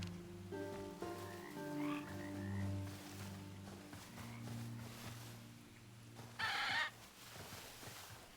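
A chorus of frogs croaks steadily in a Hytale game setting, loud and near, mixed with clucking chickens and a brief brighter burst of calls near the end, with no speech.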